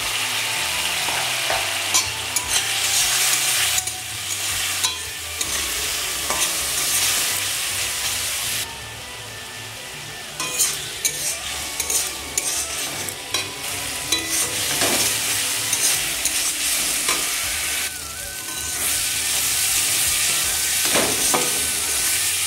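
Ginger garlic paste and chili powder fry in a pan for an egg curry while being stirred. A loud continuous sizzle carries repeated scraping spatula strokes, with one brief quieter lull partway through.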